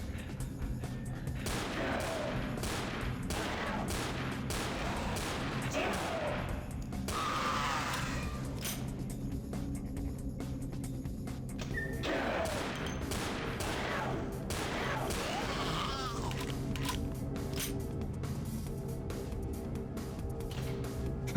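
Gunfire from .45 ACP guns in the video game Vampire: The Masquerade – Bloodlines, dense overlapping shots and bursts crackling continuously through the whole stretch over a steady background din, no talking.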